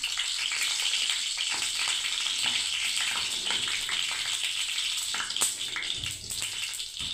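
Spiced eggplant (begun) frying in a pan, a steady close sizzle with small pops and crackles running throughout, no talking.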